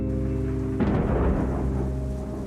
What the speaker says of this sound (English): One stormy night, as rain lashed against his window and the sea roared like a beast, Elias sat alone at his table.